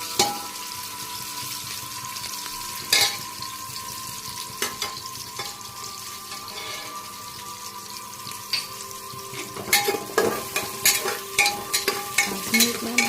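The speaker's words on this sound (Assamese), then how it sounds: "ড্ৰাই ফ্ৰুটছ আৰু ইলাচি, দালচেনিখিনি একেলগে ফ্ৰাই কৰি লওঁ।" Bay leaf, dry fruits, cardamom and cinnamon fry together in oil for veg pulao with a steady low sizzle, punctuated by sharp utensil clatters that grow more frequent toward the end.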